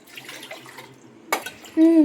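A mixer jar is rinsed out with water in a home kitchen, giving a short splash and clatter after a stretch of quiet talk, followed by a brief ringing tone.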